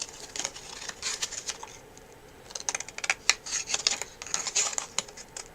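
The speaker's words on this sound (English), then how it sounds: "So now I can take my scissors" Scissors cut paper for a handmade craft book card, giving a run of close, crisp snipping and rustling strokes, sparse at first and then quicker and busier, with no talking.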